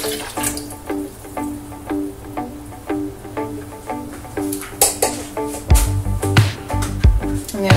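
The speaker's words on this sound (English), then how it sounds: "And then I'm going to add the cold water." Two cups of cold water are poured into a jug of lavender lemonade, a steady splashing liquid stream running for several seconds with clinks of the container.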